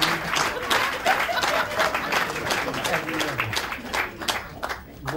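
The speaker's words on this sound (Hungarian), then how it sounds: "Tapsolják meg" A theatre audience breaks into steady, dense applause that carries on for several seconds, fairly loud and close, with a voice speaking over the clapping in places.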